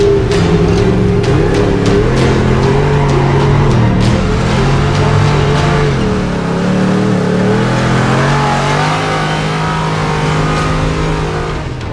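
A car engine strains hard up a steep hill, loud and close, with a sustained labouring drone that wavers in pitch as the revs rise and dip, and no other sounds.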